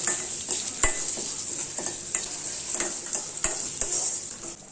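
Garlic and coconut dry-roast in a hot pan for chutney, giving a steady soft sizzle and hiss with repeated scraping stirs and light clicks of a spoon against the metal, close and continuous.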